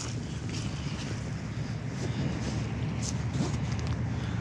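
Steady wind buffets the microphone outdoors in Chicago, a continuous broadband rush that rises and falls slightly with gusts and fills the whole clip.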